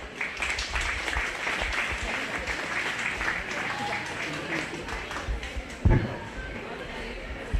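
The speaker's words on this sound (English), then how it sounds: "So give both these girls a big round of applause." An audience at a 4-H/FFA goat show applauds steadily and at length, with a dense crowd clatter and a brief louder thump near the end, with talk mixed in.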